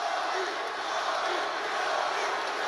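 Roar of a basketball arena crowd at a Los Angeles Lakers game, a broad continuous cheering din with a commentator's voice talking over it.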